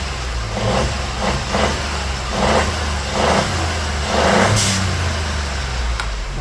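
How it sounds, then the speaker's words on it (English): The engine of a Kia Picanto JA runs at a steady idle and is revved in several short bursts, moderately loud and close, with no talking. "Alright, so the engine's running"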